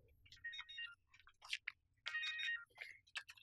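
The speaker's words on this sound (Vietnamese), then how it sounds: "Nghe điện thoại đi ba." A mobile phone ringtone plays in short tonal bursts with gaps, at a moderate level from inside a car pulled over at the roadside near dusk.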